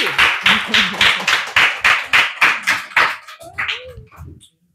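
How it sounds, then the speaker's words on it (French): A small group claps in unison, about a dozen sharp rhythmic beats in steady time, then trails off into a few scattered claps and a brief voice before stopping. "Applaudissez-vous."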